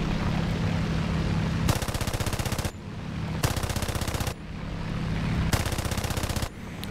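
Aircraft machine guns firing in the War Thunder game with a J8A fighter, three loud rapid bursts of about a second each, separated by steady engine drone.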